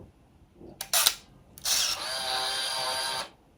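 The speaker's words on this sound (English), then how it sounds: "The shutter is noisier. The wind maybe is a little bit noisier, but certainly the shutter is a lot noisier." Konica film camera with no film loaded, its shutter firing in a short sharp clack followed by a longer whirring burst of the auto wind motor, close and clear with no talking.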